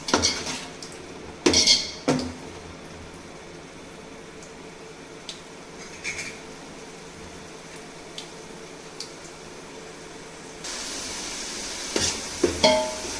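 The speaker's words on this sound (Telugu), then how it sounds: "ఇవన్నీ బాగా వేగే వరకు వేయించుకోవాలి" Spices and masala fry in a pan while a metal spoon scrapes and clanks against it in a few bursts, between stretches of soft, steady sizzling, with no voices.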